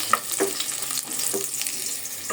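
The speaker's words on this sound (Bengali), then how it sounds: "দিয়ে দিলাম তেল আর পেঁয়াজ" Sliced onion frying in hot oil in a pot for a bottle gourd curry, a close, crackling sizzle broken by scraping stirs; no talking.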